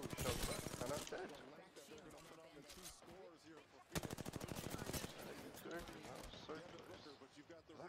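Rapid automatic gunfire from the video game Apex Legends crackles in dense, close bursts, with one long sustained volley near the end, while someone talks excitedly over the shooting.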